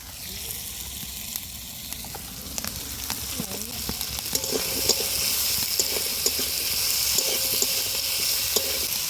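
Cut and washed cabbage and drumsticks go into a hot pan with fish heads, a steady sizzling hiss that grows louder midway, with stirring clinks and a voice talking underneath.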